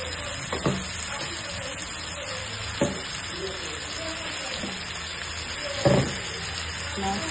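Several fish sizzle in hot oil in a pan on a home cooking stove, a steady close frying hiss with a few sharp clatters and pops as pieces are added and moved, no talk.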